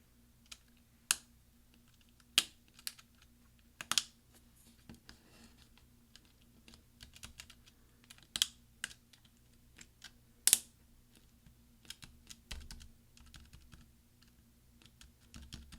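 MacBook Pro 13-inch unibody caps lock key being pressed into place, with a series of sharp, quiet, scattered snaps and clicks spread irregularly over a near-silent background.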